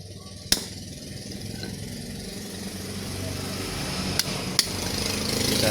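A hammer taps out the front fork seal of a Honda Supra motorcycle, giving three sharp, separate knocks over a steady engine-like drone with some talk in the background.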